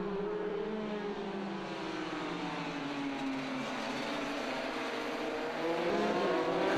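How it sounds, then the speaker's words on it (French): Motorcycles race around the Croix-en-Ternois circuit in a Promosport event, giving a continuous high engine drone with shifting pitch as the bikes pass at a distance, with no voices. "Martin Renaudin vire en tête au premier virage devant Pierre Langlois."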